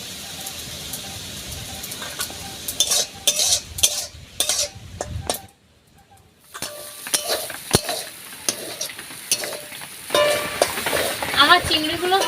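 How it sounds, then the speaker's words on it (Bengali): Prawns stirred while frying in a pan, with a steady sizzle under repeated scraping and clinking of a spatula against the metal, pausing briefly midway before resuming. "চিংড়িটা কিন্তু বেশিক্ষণ ভাজতে লাগে না, কিছুক্ষণ নাড়াচাড়া করলেই ভাজা হয়ে যায় চিংড়ি।"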